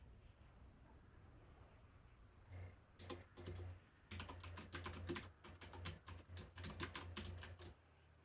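Computer keyboard typing starts with a few scattered key presses, then builds into quick, uneven runs of close clicks and louder keystrokes, alone in a quiet room.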